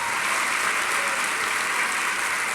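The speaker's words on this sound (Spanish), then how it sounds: "si va a aplaudirle al Señor, Él merece un aplauso fuerte" A church congregation breaks into strong, sustained applause, a dense steady roar of many hands clapping throughout, with no speech over it.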